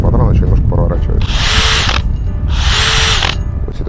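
Electric drill chuck running in second gear, then clicking and ratcheting briefly as the motor stops and the chuck keeps turning, two loud close bursts of mechanical rattle with voice talking underneath.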